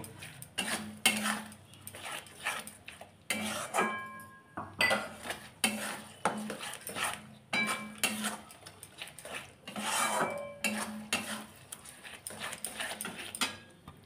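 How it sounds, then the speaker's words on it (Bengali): A spoon repeatedly scrapes and clatters against a pan as a ground poppy seed and melon seed paste is stirred and fried, in irregular bursts of metallic scraping with brief pauses between strokes. "সেই পেস্টটা আমি অ্যাড করে দেবো এটাতে। আবারও কিছুক্ষণ কষিয়ে নেব"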